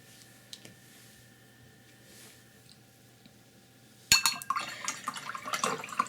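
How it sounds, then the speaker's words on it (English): A paintbrush is swished and rinsed in a water jar after painting, starting abruptly as sloshing, clinking splashes over the last two seconds after a quiet lead-in. "let's wash"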